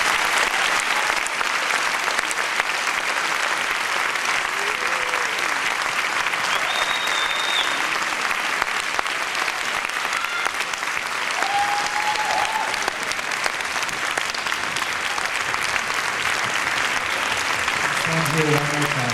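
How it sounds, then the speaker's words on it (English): Audience at an awards and medals ceremony giving a long, sustained round of applause, dense and even throughout, with a few faint voices and whistles underneath. "Let's give them one final round of applause."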